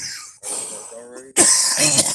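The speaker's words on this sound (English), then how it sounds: "It's tobacco, but it makes me cough." A person coughs several times in harsh, close bursts after smoking tobacco, with a throat-clearing quality and short pauses between the coughs.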